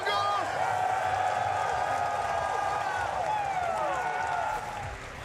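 A packed esports arena crowd at a Counter-Strike 2 Major grand final in Austin roars, cheers and applauds in a dense, sustained wall of noise with whistles and shouted voices, easing slightly toward the end.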